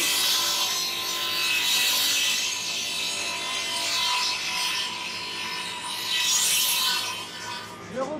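A table saw blade cuts through wood with a continuous rasping, grinding whine, close and loud, holding steady before tapering off at the end.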